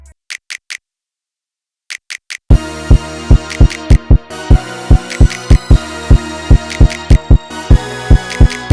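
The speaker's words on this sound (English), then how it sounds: "Then on top of that, we're adding a snap." Bright finger-snap sample pitched down a semitone in a hip-hop beat, a few crisp snaps alone at first, then repeating over a loud droning synth and kick pattern.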